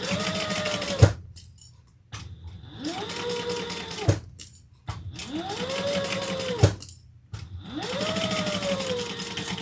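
A sewing machine stitches the back panel of a fabric bucket bag to the front panel, running in four steady whirring bursts separated by short pauses, close and loud.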